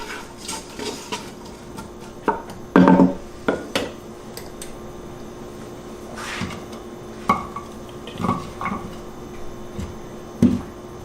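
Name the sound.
stirring cooking onion in a pot for chili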